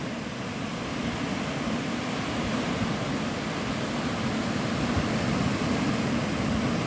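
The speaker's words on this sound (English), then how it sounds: "This is in Navarre Beach, Florida, in the Panhandle." Steady ocean surf at Navarre Beach in the Florida Panhandle, a constant broadband wash of breaking waves heard close and loud throughout, with no voices.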